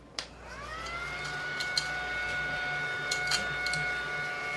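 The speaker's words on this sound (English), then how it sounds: "I'm just going to use my little mushroom vac here and vacuum up all of these shavings." A small mushroom-shaped mini vacuum cleaner sucks up shavings with a steady, high-pitched whirring motor hum that holds throughout, punctuated by faint ticks and clicks.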